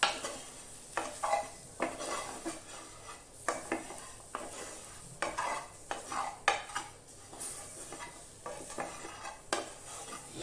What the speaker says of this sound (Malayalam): ഇത്രയും സാധനങ്ങൾ ഇട്ടതിന് ശേഷം നന്നായിട്ട് ഇളക്കി യോജിപ്പിക്കുക